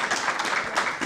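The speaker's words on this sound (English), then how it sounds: "once again, a round of applause for the two of them" An audience applauding two debaters at a university debate: a brief, dense wash of many hands clapping, steady and moderately loud.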